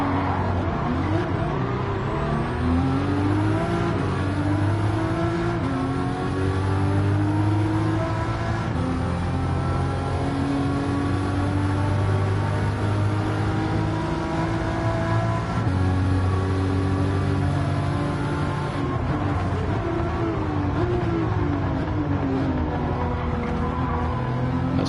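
Race car engines in Gran Turismo 7 rev and shift continuously, rising pitch sweeps repeating as cars accelerate through gears, a loud, steady engine drone with no talk over it.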